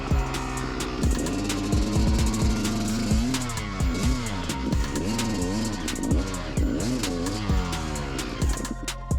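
An enduro motorcycle stuck in muddy forest ruts revs hard in repeated rising and falling surges while its rear wheel spins in the mud, the engine close and loud throughout.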